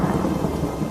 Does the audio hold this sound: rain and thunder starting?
yes